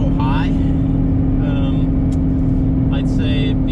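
A boosted car in first gear during roll racing, its engine droning steadily loud and close from start to finish, with someone talking over it throughout.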